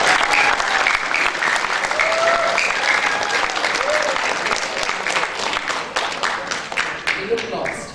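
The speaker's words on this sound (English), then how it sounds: "Please let us give her a big round of applause." Audience applause at a cultural show, a dense sustained round of clapping from a crowd welcoming a speaker, loud and steady for several seconds with faint voices beneath.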